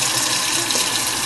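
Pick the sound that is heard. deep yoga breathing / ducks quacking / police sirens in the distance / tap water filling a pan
tap water filling a pan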